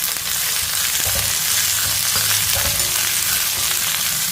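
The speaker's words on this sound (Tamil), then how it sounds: "அதனால கொஞ்சம் நல்லா அடுப்பை வந்து மீடியத்தில் வச்சு நல்லா வதக்கிடுவோம்" Adamant creeper (pirandai) is sautéed in oil over a medium flame, giving a steady, close sizzle and frying hiss with occasional stirring scrapes throughout.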